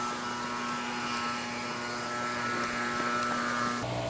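A leaf blower carried by walkers along a cove roars steadily and fairly faintly in the distance, a constant droning whine that drops off near the end.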